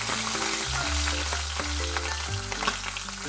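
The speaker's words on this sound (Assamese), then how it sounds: "এয়া মোৰ কেৰাহীত ভাজি আছে মাছ" Fish pieces fry in hot oil in a wok, giving a continuous hissing sizzle with scattered pops, steady and close, while low background music plays and nobody speaks.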